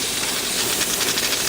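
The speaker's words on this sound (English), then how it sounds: "It's going to be pretty wet steam," Wet steam hisses steadily from a Stuart 501 vintage model boiler running at about 20 psi, a loud, continuous broadband rush with no pauses or talking.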